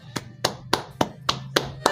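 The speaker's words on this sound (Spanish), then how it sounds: "Un aplauso para todos." A single pair of hands claps in a slow, steady rhythm, seven sharp, close claps spaced evenly over two seconds against a low background hum.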